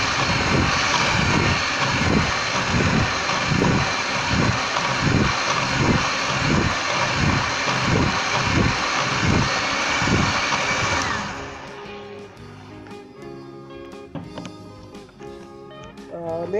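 An electric beater whips chilled cream for blueberry-flavoured whipped cream, a loud, close, pulsing motor whirr that runs steadily for about eleven seconds and then stops, leaving quieter room sound and a voice.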